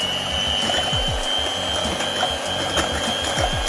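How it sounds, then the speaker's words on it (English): A handheld electric mixer whisks egg whites for a Swiss roll, a steady close mechanical whir with repeated rattling, clicking strokes as the beaters knock around the bowl, no talking. "We are now going to mix them with an electric mixer."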